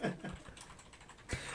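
Quiet, scattered keystrokes on a computer keyboard, a few soft taps with pauses between them, heard on their own with no talking.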